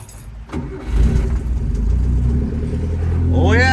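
A Subaru Sambar engine cranks and catches in snowy conditions, settling into a loud steady rumble that builds toward the end, heard close up with no talk over it.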